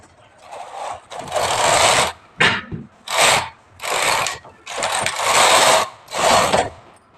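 A knitting machine carriage pushed back and forth across the needles while knitting a half-sleeve sweater, loud close mechanical whirring sweeps of about a second each, repeated six or seven times with short gaps between passes.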